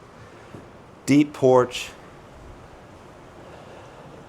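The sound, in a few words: strong wind outdoors by a lake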